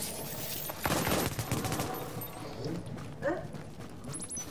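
Rapid gunfire in a video game as shots hit a turret, a dense burst of cracks early on, then scattered hits and clanks, with voices talking over it.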